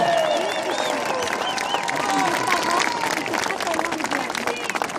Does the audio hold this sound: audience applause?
yes